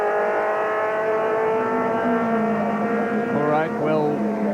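Race cars at the 1993 Bathurst 12 Hour hold a steady, droning engine whine at a distance. Near the end, one car sweeps past with a rising and falling pitch, and a faint commentator's voice sits underneath.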